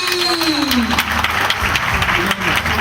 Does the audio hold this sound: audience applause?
yes